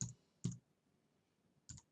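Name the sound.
mouse click on a computer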